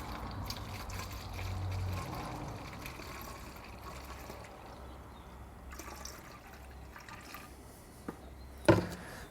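Cleaning solution is poured into the tank of a Bissell SpotClean Pro carpet cleaner, making a faint, continuous trickle and gurgle for several seconds. A brief plastic clunk sounds near the end.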